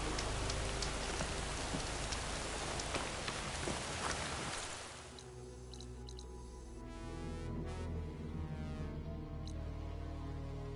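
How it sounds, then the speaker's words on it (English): Heavy rain falls in the video game Horizon Forbidden West, a dense hiss for about five seconds before easing into a lighter patter with occasional drips. "Sky's running out of rain for now."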